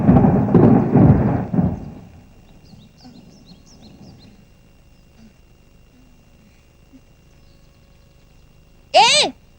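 A single low thunder rumble rolls through during rain at the start, under a voice, then fades to quiet with faint chirps before a sharp, loud swooping sound near the end.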